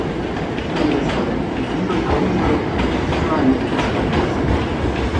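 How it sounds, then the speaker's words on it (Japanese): Hankyu 9300 series train, set 9309F, pulling into Awaji station on track 5 as a rapid express, a steady loud rumble with clicking wheels over rail joints throughout, close by on the platform. "皆様、まもなく御堂線に京都河原町方面に向かう電車が到着します。"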